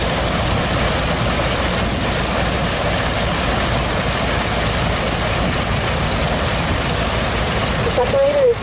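A steady, loud mechanical rumble of a steam engine driving a threshing machine separator at a threshermen's show in Yorkton, Saskatchewan, continuous and droning with no clear pauses.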